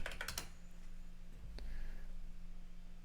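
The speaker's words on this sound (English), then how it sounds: "Oh, I'm typing in the wrong one." Typing on a computer keyboard while entering a code on a crypto deposit page: a quick burst of close, crisp keystrokes, then a pause and one more isolated key tap against faint room hum.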